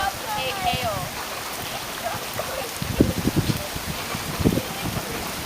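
Rain falling on a Las Vegas street, a constant splashing hiss with louder close drips and splatters bunching up around the middle and later, while voices talk faintly over it.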